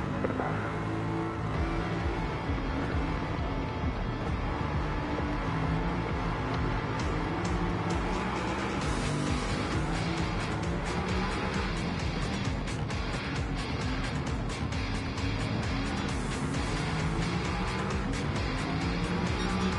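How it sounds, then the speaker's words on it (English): A low-revving car engine in the racing game Gran Turismo 7 drones loud and steady for the whole stretch, with a dense, constant tone and a few surges in pitch, and no one talking. "it just feels like a really low revving engine"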